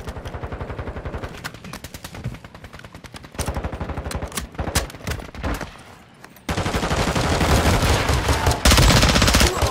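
Rapid automatic gunfire bursts in a Call of Duty Warzone battle royale match, with dense repeated shots swelling louder and more continuous toward the end, close and intense.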